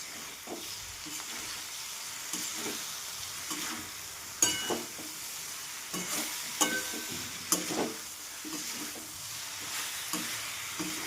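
Brinjal curry being stirred and fried in a little oil in a pan, with soft continuous sizzling broken by repeated scraping and clattering strokes of a spoon against the pan, close and moderately loud.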